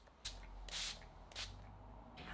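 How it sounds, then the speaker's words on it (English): Several quick hissing spritzes from a face mist spray bottle, short bursts spaced apart in a quiet room. "So I'm going to give my face a good spray with this stuff."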